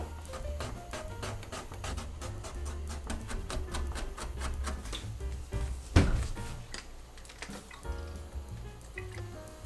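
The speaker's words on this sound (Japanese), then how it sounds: "トッピング用のニンニクを刻んどく。" A knife chops garlic on a cutting board for a homemade Jiro-style ramen topping, giving a rapid, steady run of close, crisp taps over a constant low background hum.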